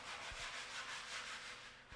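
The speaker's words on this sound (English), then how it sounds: "Sand down with a coarse-grained glass paper." Previously painted timber being sanded with coarse-grained glass paper on a sanding block, a continuous close scratchy rasp in even back-and-forth strokes, with a couple of soft knocks and no talk.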